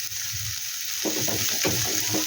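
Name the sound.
carrot frying in a little oil in a pan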